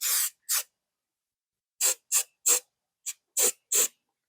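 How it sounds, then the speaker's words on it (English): Short hissing bursts from a can of lubricant oil sprayed onto a gun barrel, about nine quick squirts in irregular clusters, separated by silence, up close. "This is just a generic lubricant oil. And I'm just going to spray it on it."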